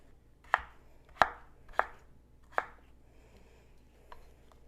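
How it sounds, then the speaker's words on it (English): Potatoes for southern potato salad are chopped with a knife on a cutting board, four crisp, evenly spaced knocks followed by a lighter fifth, close by in a quiet kitchen. "So I'll get the rest of these potatoes cut up"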